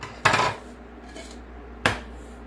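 Eggs cracked against a bowl for a grapefruit cake made from cake mix, two sharp close taps about a second and a half apart, with a faint clink between.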